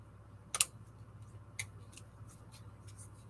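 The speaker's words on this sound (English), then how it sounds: "that's not working as nice as I would like because the scissors are too big" Large scissors snip through the cardboard top of a tissue box in a few sharp, isolated clicks spaced apart against a quiet room hum.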